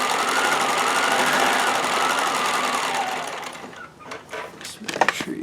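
A White Euroflair 8910 sewing machine made by Husqvarna Viking runs steadily while stitching a decorative cross hem pattern, a continuous close mechanical whir that slows and breaks into uneven bursts near the end.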